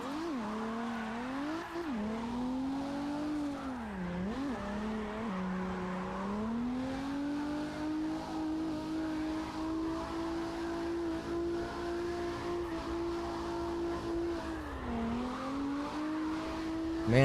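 In a video game, a vehicle's engine holds a steady, droning note while it drifts, the pitch dipping and rising through the turns, with faint tyre noise underneath and no talk.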